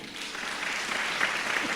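A church congregation claps loudly for God during a fasting prayer service, a dense, steady wash of many hands that fills the whole stretch without a break.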